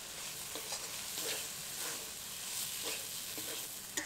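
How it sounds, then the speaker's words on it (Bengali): Drained soybeans being stirred and fried with spices in a pan for a winter cabbage-and-soybean vegetarian dish, village-style cooking; a steady soft sizzle runs throughout, broken by irregular scraping stirs of a spoon against the pan, with no talking. "এবার এর মধ্যে জল ঝরিয়ে রাখা সোয়াবিনগুলো দিয়ে দেব, মশলার সাথে ভালো করে কষিয়ে নেব।"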